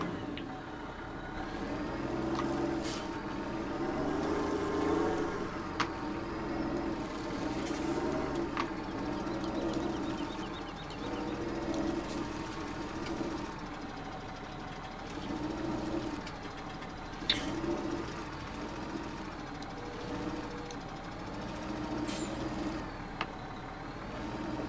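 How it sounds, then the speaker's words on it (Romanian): In the video game Farming Simulator 17, a tractor engine works steadily as it pushes logs through a forest, a long low drone with small swells and a few faint clicks, with no talk over it. "Hai să încercăm să le împingem cu tractorul."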